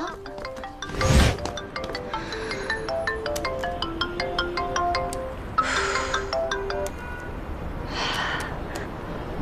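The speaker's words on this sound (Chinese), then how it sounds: "啊，不好意思，我接个电话。" A mobile phone ringtone plays a repeating melodic chime of bright tones for several seconds in an indoor scene, with a couple of brief breathy bursts over it.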